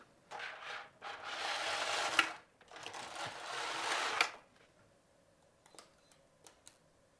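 A Passap Duomatic 80 knitting machine knitting rows on a child's sweater: close, rasping carriage passes in two long sweeps with a short gap between, then quiet with a few light clicks.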